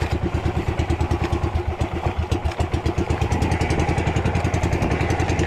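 Motorcycle engine idling roughly and misfiring, a close, loud, uneven chugging with irregular thumps and clatter that continues steadily without talk.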